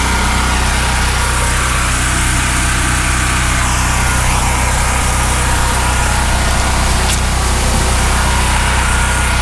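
A Costco Firman 7571 generator runs inside a shed, a loud, steady engine drone with constant low hum and broadband mechanical noise throughout, no voices.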